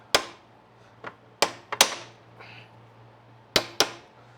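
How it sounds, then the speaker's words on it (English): Light tapping on a part of a 1986 C30 truck to hold it in place, a few sharp close knocks spaced unevenly, some in quick pairs, over a low steady hum. "I just tap that to hold it in because I run out of hands"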